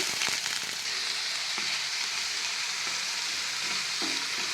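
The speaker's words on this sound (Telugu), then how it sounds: "ఆయిల్ అయితే హీట్ ఎక్కింది. ఇప్పుడైతే ఆనియన్స్ వేసుకుందాము" Thinly sliced onions dropped into hot oil for a peanut curry, a loud, dense hiss of frying with occasional spatula scrapes, close up and with no voices.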